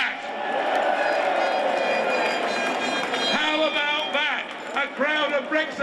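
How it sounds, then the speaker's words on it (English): A large crowd of Brexiteers in London roars and cheers continuously, dense and loud throughout, with a sustained wash of shouting voices and a speaker's voice cutting through near the end. "the Brexiteers cheer Tony Blair"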